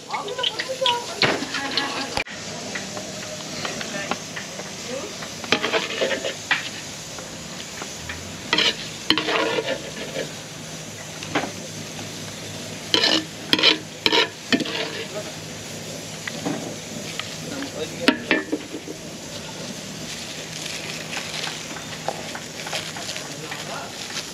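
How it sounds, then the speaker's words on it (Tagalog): Sisig sizzles and crackles steadily as it fries in a pan, with intermittent scraping strokes of stirring and occasional louder clanks, some talking faintly in the background. "sisig natin is prito ngayon"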